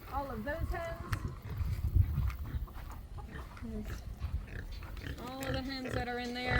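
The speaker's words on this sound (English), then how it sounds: "Why are there pigs here and they're not in the pig pen?" House pigs on a family homestead grunt and squeal repeatedly, loud and close, with voices talking over and between the oinks.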